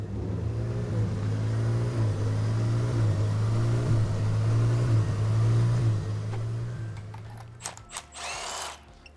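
A worn Volvo engine with 300,000 miles runs after a dyno session, giving off a steady, close, low droning rumble for several seconds before it cuts out and a few clanks follow.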